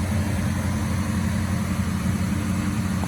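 The engine of a 1964 Studebaker Gran Turismo runs at a steady idle, a continuous, fairly loud low hum with no breaks and no talking.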